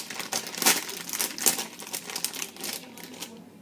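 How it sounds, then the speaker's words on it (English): Scissors cut through a packet of cookie mix with a crinkly, crackling plastic rustle in bursts, close and moderately loud, with no talk over it. "we're going to get the cookie mix and just do this with scissors"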